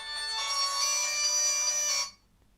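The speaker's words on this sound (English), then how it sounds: "Whose phone's this?" A mobile phone ringtone plays loud and close, a bright steady electronic tone sustained for about two seconds before cutting off abruptly into near silence.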